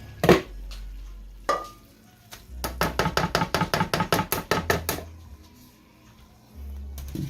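Casserole ingredients tipped into a crock pot with a quick run of about a dozen sharp scraping clinks of a spoon on a dish, close and loud, between quieter kitchen handling.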